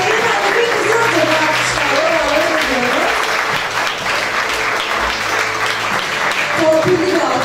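An audience at a hospital's 25th anniversary ceremony claps in a loud, dense burst close by, sustained throughout with voices calling out and talking over the applause.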